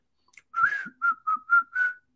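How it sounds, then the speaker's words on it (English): A person whistles a short tune: a longer opening note, then four clipped notes in a steady rhythm, clear and close with no other sound. "I just whistle while I work."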